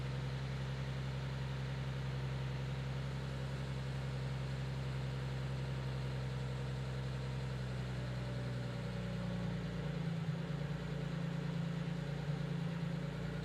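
A Porsche hot rod engine idles after a warm start, a steady low drone close by. Partway through, the tone shifts slightly lower and rougher as the idle settles, with no talking.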